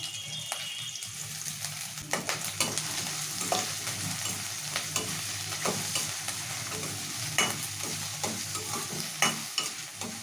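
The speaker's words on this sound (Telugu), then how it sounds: "ఇప్పుడు ఈ ఆయిల్లోకి సన్నగా కట్ చేసుకున్న ఉల్లిపాయ ముక్కలు వేసుకుందాము" Finely chopped onions, green chillies and capsicum sizzle steadily in hot oil for soya chunks fried rice, with repeated scraping stirs over a loud, continuous frying hiss and no talking.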